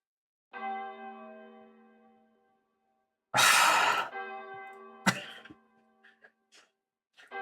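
A church bell rings out with a long ringing decay, then a loud breathy sigh is followed by another bell strike that fades away, with small sounds nearby.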